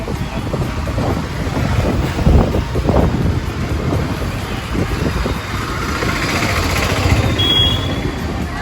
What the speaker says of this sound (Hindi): हवा भी तेज़ चल रही है